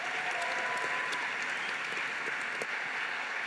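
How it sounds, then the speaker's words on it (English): An audience claps at a startup pitch night, a dense, steady wash of applause from many hands, moderately distant in a large hall, with no voices over it. "keep your hands clapping for our next team"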